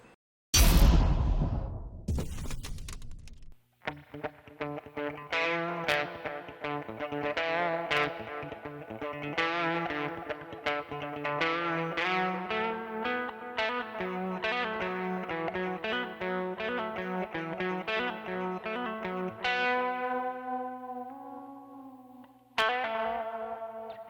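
Electric guitar played through a Keeley Mag Echo tape echo effect pedal, sustained chords and melodic notes trailing into repeating echoes, loud and close with no talking, ending on a final struck chord.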